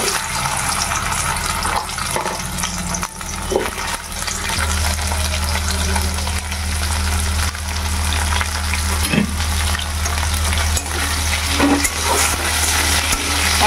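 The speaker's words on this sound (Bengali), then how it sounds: "আলু আর কচুটা ভেজে নিই।" Potatoes and taro fry in hot oil in a wok, a loud, continuous close sizzle with stirring scrapes and a low steady hum underneath.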